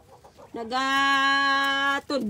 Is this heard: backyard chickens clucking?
yes